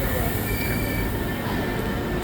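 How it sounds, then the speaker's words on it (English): A train at a station platform in Florence, Italy, producing a steady close rumble with a faint high whine, short and continuous, with no talking. "Here's our train"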